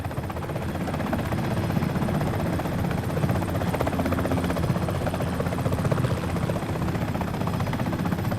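A Comanche helicopter in the PC game Comanche HD drones with a constant loud rotor buzz and throbbing whir, unbroken and close for the full length, with no voices over it.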